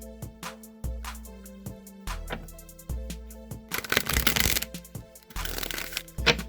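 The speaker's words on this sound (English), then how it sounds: "Let me just give these a few shuffles here for you air signs out there." Tarot cards are riffled and shuffled in several bursts of crisp flicking and rustling, close up, with taps and pauses between shuffles.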